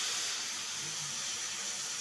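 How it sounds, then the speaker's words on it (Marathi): Half a glass of water goes into a hot pan of bitter gourd curry with coconut, giving a soft, steady hiss of steam and sizzle, faint and uninterrupted for a couple of seconds. "तर आता आपण पाणी टाकून घेणार आहे थोडं"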